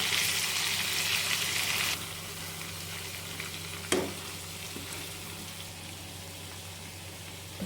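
Stuffed brinjal masala curry sizzles loudly in a pan; the hiss drops partway through, then a spoon clatters once before the softer frying continues.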